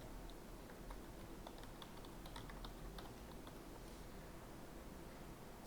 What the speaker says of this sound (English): just click on New, type in the name of your folder,